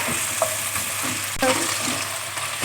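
Green chillies hit hot oil in a frying pan over a low-to-medium flame, giving a steady close sizzle with faint stirring clicks and a brief scrape, no voices.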